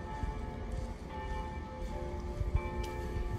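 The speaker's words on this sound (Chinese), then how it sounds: "听到钟声" A church bell in the French Quarter of New Orleans tolls with sustained ringing tones, moderately faint in an open street setting under a low background hum.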